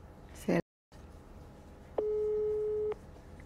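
A single steady telephone tone sounds for about a second while a number is dialed to call a woman's child, clear and close after a short burst of noise and a brief gap.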